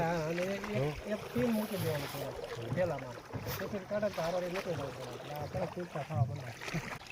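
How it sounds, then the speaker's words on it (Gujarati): Steady rumble of a boat moving over the water of Karjan Dam reservoir runs beneath people talking throughout. "જો મિત્રો આપણે બોટિંગ કરી રહ્યા છીએ"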